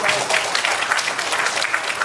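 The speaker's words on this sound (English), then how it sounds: "Please give her a round of applause," An audience at a Thai conference panel applauds a law professor, a steady dense wash of many hands clapping with no pause.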